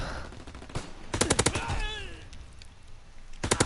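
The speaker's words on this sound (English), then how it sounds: "That's an MP40." Bursts of rapid automatic fire from an MP40 submachine gun in a World War II style video game, two short volleys near the start and another at the end, loud and close with quieter game ambience between.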